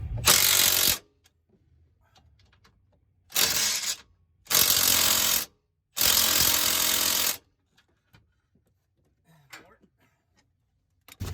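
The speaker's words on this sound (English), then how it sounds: "Then I'm gonna hit it with the impact in the back." An impact wrench hammers on a rear suspension bolt of a Dodge Charger R/T 5.7 in a garage. It fires in four loud bursts of about one to one and a half seconds each, separated by quiet gaps.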